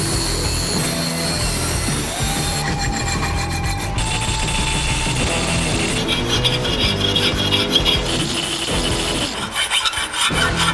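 Steady rasping strokes of a hand file on metal while a drill bit is shaped in a jewelry studio, continuous and close with brief pauses and changes in tone between passes.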